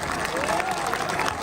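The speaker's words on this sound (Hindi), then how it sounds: "सबके लिए तालियां" A crowd at a political party convention in Nowshera, Pakistan, claps and cheers briefly, a dense burst of applause with voices mixed into the noise.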